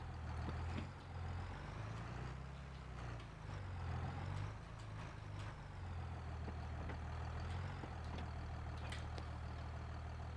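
A farm vehicle's engine drones steadily at low pitch while driving in Farming Simulator 22, with a continuous rumble and scattered mechanical clicks and knocks throughout.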